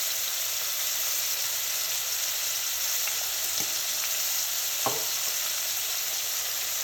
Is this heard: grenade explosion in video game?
no